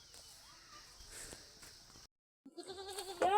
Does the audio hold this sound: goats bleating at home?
yes